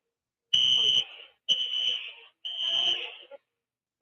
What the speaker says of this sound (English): Oh, this is strange. We have a fire alarm.